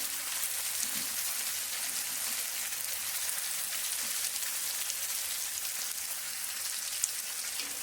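Vegetables with drumstick stems being sautéed in a pan for a vegetarian mustard charchari, giving a soft, steady sizzling hiss that runs evenly throughout, faint and without speech.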